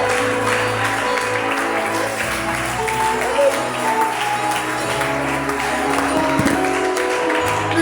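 Worshippers in a church congregation clap in applause of worship, a steady dense wash of hands that holds for the whole stretch, with voices and music or organ tones running underneath.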